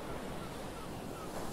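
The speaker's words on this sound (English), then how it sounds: "I could sit out here and look at the waves all day" Ocean waves in the video game Fall Guys wash in as a steady, even hiss of surf with no distinct breaks, heard alone without talk.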